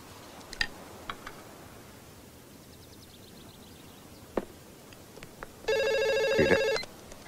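A telephone rings in a Telugu film scene: one loud, steady burst of electronic ringing near the end, after a quiet stretch with a few faint ticks and clicks.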